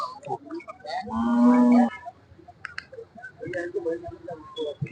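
An HF dairy cow at a cattle and buffalo market in Nulvi, Karnataka, lets out one loud, close moo that lasts under a second. Market voices talk before and after it.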